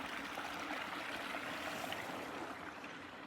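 A small waterfall at the end of a portage among rock formations in the Temagami wilderness along the Lady Evelyn River, a steady broadband rush of falling water, continuous and moderately distant with no other sounds.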